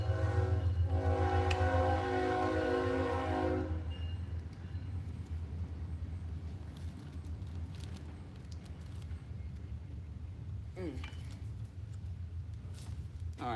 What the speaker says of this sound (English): There's that train.